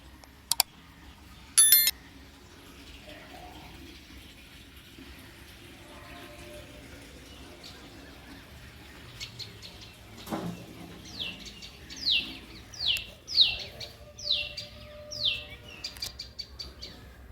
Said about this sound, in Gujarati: ચકલીઓનો ધીરો ધીરો અવાજ